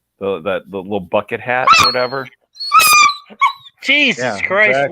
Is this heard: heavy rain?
no